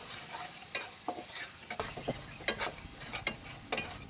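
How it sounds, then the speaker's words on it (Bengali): Spice masala with salt, turmeric and sugar is stir-fried in a pan: a quiet, constant sizzle is punctuated by scattered scraping strokes of a utensil. "এখন মশলাটাকে ভালো করে কষিয়ে নেব"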